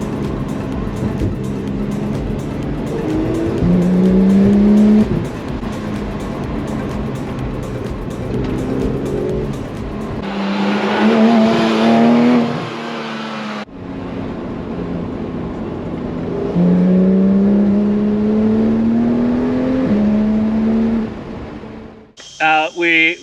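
A 2016 Porsche GT3 is driven along the winding Mount Nebo Road in the mountains behind Brisbane, its engine note rising and falling loudly through gear changes under steady talk, with a brief quieter stretch and a sharp burst at the end.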